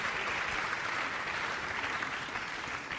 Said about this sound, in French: Applaudissements, merci pour eux